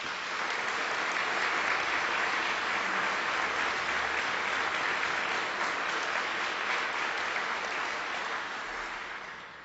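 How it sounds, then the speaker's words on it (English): A sustained round of applause at an award ceremony, steady, dense clapping from a crowd that holds for several seconds before easing off at the end. "they deserve a real round of applause."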